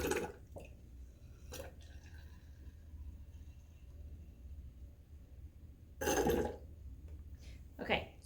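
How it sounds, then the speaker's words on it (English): Baby oil is squeezed from a bottle into a jar in a few short, wet squirting bursts separated by quiet gaps, the loudest squirt coming near the end. "I'm going to put some baby oil in this jar. So let's squeeze it in here."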